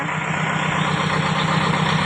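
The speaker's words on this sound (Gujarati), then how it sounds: "ટ્રેક્ટર બોલાવેલી છે" A steady, loud tractor engine idles continuously with a low rhythmic chug, close by and unchanging throughout.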